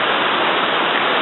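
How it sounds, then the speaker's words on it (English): A loud waterfall running high after rain over slippery rocks, a steady broadband rushing roar that holds constant with no voices. "Now, we got a little waterfall action going on over there."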